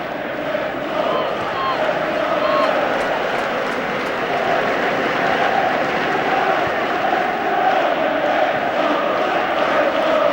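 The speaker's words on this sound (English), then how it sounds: "Plenty of singing in the crowd." Football crowd in a stadium at an FA Cup quarter-final between Chelsea and Tottenham keeps up a broad, distant roar of singing and chanting, steady throughout, with a commentator talking over it.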